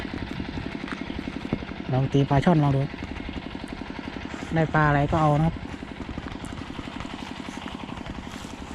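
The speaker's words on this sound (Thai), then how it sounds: "แถวนี้เขาเอาเรือหางยาวมาตัดหญ้าครับผม" A long-tail boat engine running nearby while cutting grass in the water, a steady mid-pitched drone throughout, partly under someone talking in two bursts.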